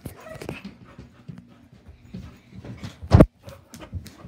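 A small hunting dog pants in quick, soft breaths close by, with faint shuffling and one sharp thump partway through.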